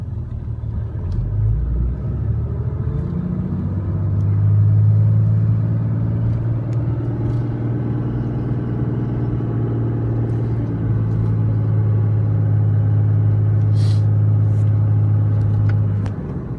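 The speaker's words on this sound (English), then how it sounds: "we're stopped here at the idle in first gear" A Cummins diesel truck with a G56 transmission and Twin Disk Valair clutch idles steadily in first gear, a deep, even engine rumble close by that swells slightly and then holds constant.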